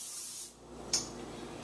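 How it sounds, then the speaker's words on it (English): Cooking spray hisses briefly from an aerosol can onto a pan for spaghetti squash, one soft burst followed by a sharper short spritz, close and fairly quiet. "I've sprayed it with cooking spray."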